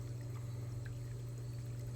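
A pool heater pump pushes only a thin trickle of water, a faint, steady pouring wash over a constant low mechanical hum that runs unbroken throughout.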